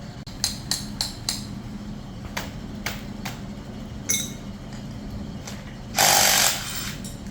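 Hand and power tools take cleats off a Bombardier track: a run of sharp, close metallic taps and knocks, then a short loud burst of tool noise near the end, over steady background rumble.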